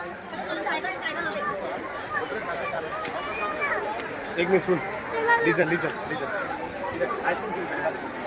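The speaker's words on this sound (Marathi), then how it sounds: "बघा पब्लिक बघा किती आहे टायगर बघण्यासाठी." Visitors crowded at a zoo tiger enclosure in Mumbai's Rani Baug, a steady hubbub of overlapping chatter and voices, moderately close, with one person talking over the crowd.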